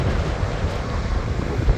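Strong wind buffets the microphone on an exposed Cornish coast in a steady low roar, loud and continuous with small gusts throughout.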